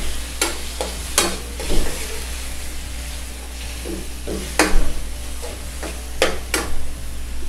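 Squid frying in a pan with pepper and seasoning, stirred by spatula: steady sizzle punctuated by sharp scraping strokes and clinks over a low hum, close and fairly loud.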